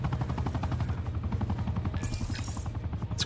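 Rapid, regular gunfire from Call of Duty Black Ops 4 multiplayer, a continuous close, loud stream of evenly spaced shots throughout, with a brief bright burst of higher noise partway through and no talk.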